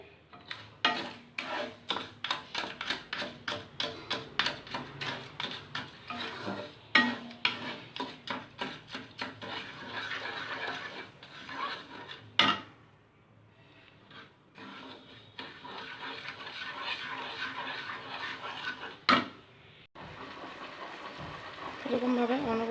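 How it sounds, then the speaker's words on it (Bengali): Sugar dissolving in water is stirred in a pan, a rapid run of rhythmic scraping strokes up close, later easing into quieter, looser stirring with a few sharp knocks, while a voice talks throughout. "এবার চিনিটা গলা পর্যন্ত এটাকে নাড়তে থাকবো"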